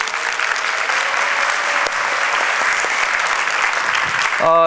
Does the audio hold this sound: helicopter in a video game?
no